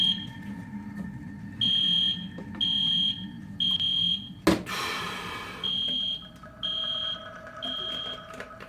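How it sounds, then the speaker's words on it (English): A fire alarm sounds in loud, repeated high electronic beeps in an even on-off pattern, broken midway by one sudden sharp bang before the beeping resumes. "I hate fire alarms. They're so annoying."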